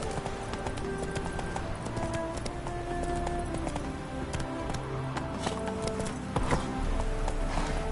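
Roach the horse galloping in the video game Witcher 3, a quick continuous run of hoof clip-clops with a rolling rhythm, fairly faint under background game sounds.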